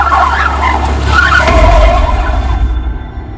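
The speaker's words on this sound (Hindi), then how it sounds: "गाड़ी घुमा।" Car turning and skidding, a loud close tire squeal with engine rumble that builds and then fades out over a few seconds.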